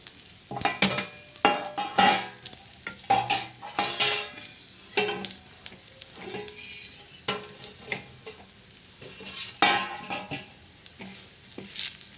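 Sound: stirring and dry-roasting coconut black masala in a pan

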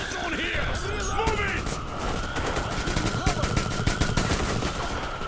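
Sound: gunfire in Metro Exodus video game

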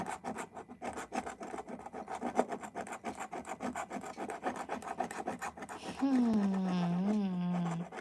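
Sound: scratching a Swedish scratch-off lottery ticket

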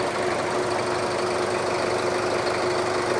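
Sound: 2007 Ford Everest engine idling

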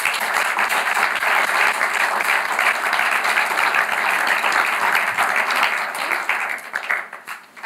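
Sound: audience applause for the speaker Gabriella

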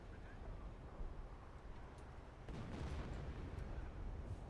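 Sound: Nebelwerfer rocket artillery fire in Company of Heroes video game

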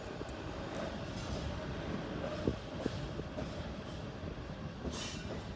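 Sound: long train passing through a railway station

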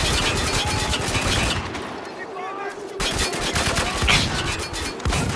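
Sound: gunfire in video game Spec Ops: The Line

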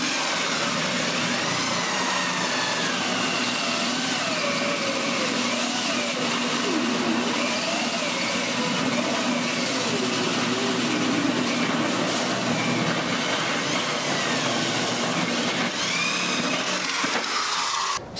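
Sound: drill with hole cutter cutting metal

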